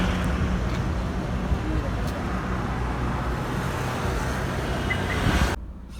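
A 2013 Toyota Corolla Altis with a 1.8 engine on a test drive, heard as a steady broad cabin rumble of engine and road noise that holds level throughout, then cuts out abruptly near the end.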